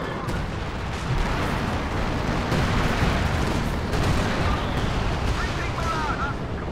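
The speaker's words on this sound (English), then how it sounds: "Wow, weakest artillery strike ever." An artillery strike lands during a Company of Heroes 2 4v4 multiplayer match, a continuous rumbling barrage of booms and blasts that stays loud and steady throughout, with a voice talking over it.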